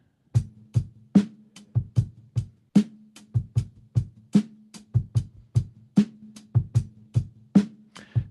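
A live drum loop from a Boom Bap Breaks sample pack plays crisp kicks and snares in a steady, punchy hip-hop groove, loud and close with no talking.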